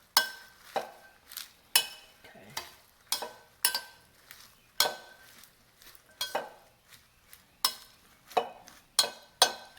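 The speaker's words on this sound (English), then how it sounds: "Give it a good stir." Arugula and fennel salad being tossed in a bowl with olive oil, lemon and salt, a series of rhythmic soft rustling sweeps about once a second, each with a light clink of utensil on bowl, quiet and close.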